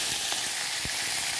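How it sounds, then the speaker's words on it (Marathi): Mustard seeds, cumin and curry leaves sizzle in very hot oil as a tempering for idli sambar, a close, continuous crackling fry with a few sharper pops and no voices. "सगळ्यात पहिल्यांदा आपण मोहरी, जिरं आणि कढीपत्त्याची फोडणी दिलेली आहे."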